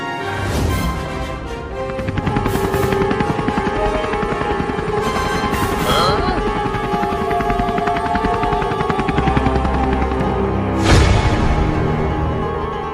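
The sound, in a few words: police helicopter flying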